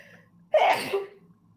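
A single sharp human sneeze, close and abrupt, bursting out of near silence and trailing off in a short breathy tail.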